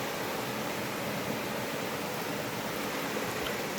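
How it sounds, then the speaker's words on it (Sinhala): A flowing stream rushes in a steady, even broadband wash that stays constant throughout, moderately quiet and with no voices. "වතුර පාර බහගෙන යන විදිය"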